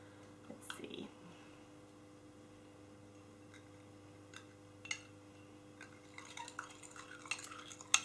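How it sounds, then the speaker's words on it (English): Quiet clinks and scrapes of a utensil stirring a natural facial mask mixed with water in a small bowl, sparse and faint, picking up into a busier patch of clicks near the end. "So I'm just giving it a quick stir."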